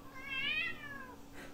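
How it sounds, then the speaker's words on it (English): A single soft meow from a cat, rising then falling, fairly faint and close, with a quiet background. "Did you hear her meow?"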